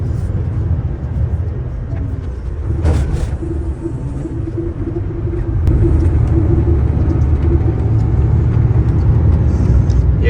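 A car on a road in Saudi Arabia heads toward a tunnel, giving a loud, steady engine and tyre rumble that swells slightly in the second half, close and continuous with no talk.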